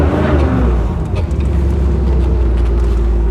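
A 1975 Bricklin SV-1 idling on a cold snowy day with a slight stumble, a close, steady low engine drone with faint unevenness in its rhythm, running alone without talk.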